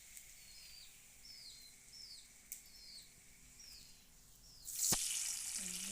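Onion, ginger and garlic paste drops into hot oil with a sudden loud sizzle near the end, after a quiet stretch where birds chirp in the background.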